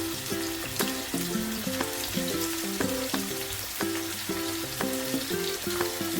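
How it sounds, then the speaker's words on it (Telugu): Green chillies frying in a pan give a steady, close sizzle with crackling pops and occasional scraping stirs, and no talk over it. "ఇది బాగా వేయించుకోవాలి."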